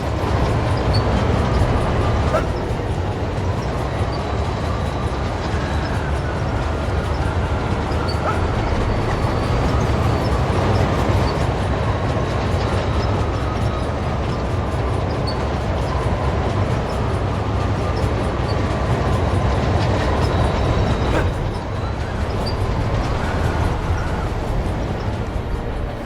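Subway trains rumbling through a tunnel in the Spider-Man 3 video game, a loud, continuous low roar and rattle of rolling cars that holds steady for about twenty-five seconds with no talk over it.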